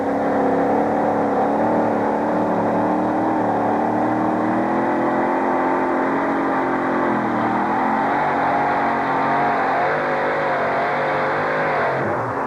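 John Shipman's monster truck Mad Dog's Revenge competes in a pull-off at Anaheim Stadium, its engine roaring loud and continuous throughout with wavering pitch as it strains under load, with no talking over it.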